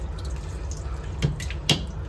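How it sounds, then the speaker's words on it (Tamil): Water flows from a tap in a train coach bathroom, a steady close trickle and splash with a couple of louder drips or spurts near the end. "நம்ம வந்து தண்ணி எப்படி வருதுன்னு பார்க்கலாம்."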